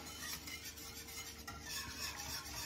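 Custard cream being stirred in a saucepan, the spoon scraping steadily along the pot's sides and corners, a continuous close, soft clatter and scrape with no voices.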